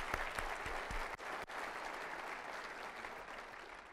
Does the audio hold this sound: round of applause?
yes